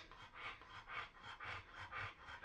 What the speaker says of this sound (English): Sir, you're panting an awful lot.